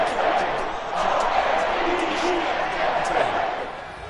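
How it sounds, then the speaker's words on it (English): A home crowd at a Miami Dolphins versus Baltimore Ravens football game applauds in a broad, steady wash of clapping and cheering from a large stadium, with a commentator's voice running over it throughout. "the home crowd applauding."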